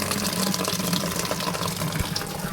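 Water gushes steadily from a tap in a campsite restroom at a resort in Tanay, Rizal, a continuous close hiss of running water with no talk over it.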